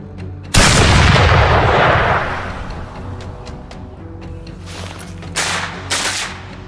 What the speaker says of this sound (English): I fired several rounds in quick succession